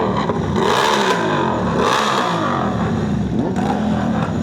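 A motorcycle engine revs loudly and close in a few rough, rising surges, with a rattling, gritty roar that stays dense throughout the short burst.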